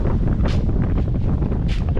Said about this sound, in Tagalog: Sarap ang hangin dito.